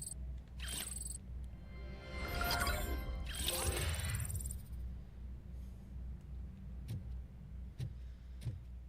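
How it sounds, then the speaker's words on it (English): In the RoboCop: Rogue City video game, a police squad car makes brief mechanical vehicle sounds over a low, constant hum, followed by a few faint, sparse clicks. "Dispatch. Requesting a squad car."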